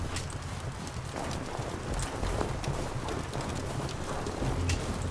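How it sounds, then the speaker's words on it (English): Footsteps crunch through snow in the video game Sniper Ghost Warrior Contracts, a steady run of gritty, close crunches alone over a soft ambient wash. "Ooh, the snow crunching."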